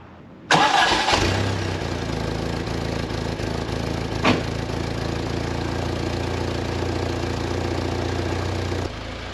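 A Fiat X1/9 fitted with its stock exhaust cranks briefly, catches and settles into a steady, fairly quiet idle with a low, even hum that runs on for several seconds.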